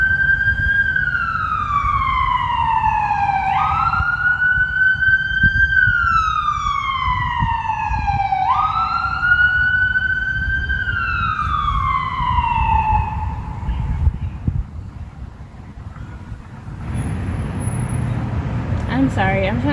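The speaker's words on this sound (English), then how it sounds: "The ambulance, they just pulled up right in front of where I am." An ambulance siren wails close by in slow rising and falling sweeps over a low engine idle, then cuts off, followed by quieter traffic noise and faint talk.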